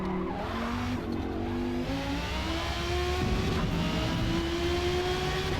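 An R34 Skyline with a swapped V10 engine racing in Forza Motorsport, a loud sustained engine drone climbing through the gears with brief shift dips and tire noise.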